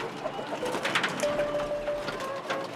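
A pet pigeon or dove coos softly and repeatedly at close range, with a faint rustle and light background noise.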